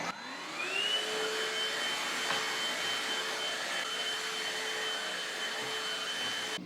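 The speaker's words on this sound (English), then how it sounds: "I'm also gonna vacuum these chairs because my cats really like to sit on these" A vacuum cleaner runs continuously on household chairs during an apartment deep clean, its motor spinning up to a steady high whine and holding loud and close throughout, with no talking.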